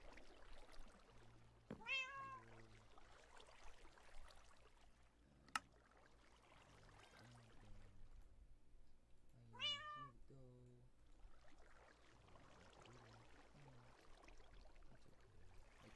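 A cat meows a few times, each call short and clear and separated by quiet gaps, over faint low background noise.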